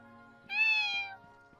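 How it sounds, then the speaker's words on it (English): A single cat meow from the Kingdom Hearts video game, rising and falling over about seven-tenths of a second, clear and close above a quiet game background with soft thumps. "Aw, I heard a kitty."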